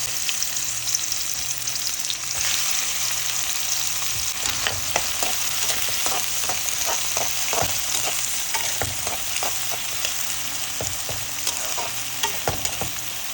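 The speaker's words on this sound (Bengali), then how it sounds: "অলিভ অয়েল দিয়ে দিলাম আর দিয়ে দিলাম পেঁয়াজ" Onion frying in olive oil in a pan makes a continuous close sizzle, with scraping stirs and small pops running through it and no talk.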